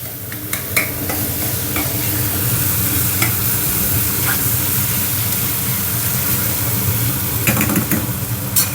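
Onions frying in a home kitchen pan give a steady, close sizzle, while a spoon stirs them in repeated scraping strokes throughout, with nobody speaking.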